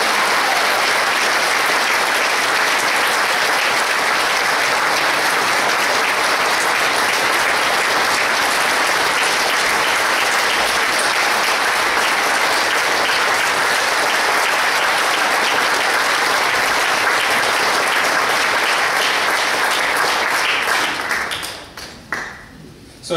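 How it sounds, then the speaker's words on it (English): Sustained audience applause after soloists at a brass band concert, dense and loud clapping from a full hall lasting around twenty seconds before fading out. "So let's have one more round of applause,"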